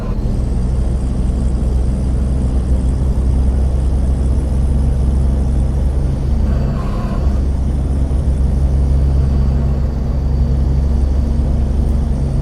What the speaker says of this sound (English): let the beautiful Kreischbaum engine sounds speak for themselves